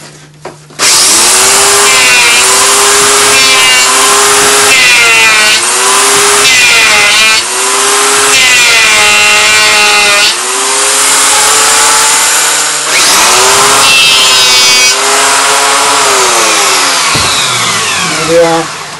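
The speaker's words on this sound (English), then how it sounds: "So we'll do that with the planer." A power planer bites into a walnut carving blank in loud, repeated passes, the motor's whine rising and dipping with each stroke and a brief pause between runs.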